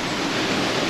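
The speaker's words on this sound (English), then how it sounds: "the stream is running along the trail" Steady broadband rush of a stream running beside a hiking trail near the Swallowtail waterfall in Hogsback, Eastern Cape, continuous and fairly loud with no talk.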